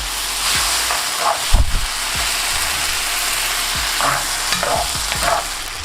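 Stir-fry noodles with chili sauce and pepper tossed in a hot pan, a continuous sizzle broken by repeated scraping strokes and soft clanks of a utensil against the pan, close and clear with no talking.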